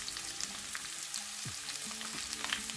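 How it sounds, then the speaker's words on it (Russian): Vegetables frying together in vegetable oil for cabbage rolls, giving a continuous close sizzle with occasional light crackles and a few soft stirring touches. "На растительном масле обжариваем овощи, все вместе, но пока не смешивая"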